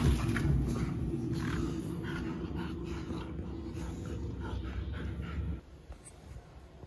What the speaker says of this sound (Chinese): 到家之后，我们的狗子就是到处跑。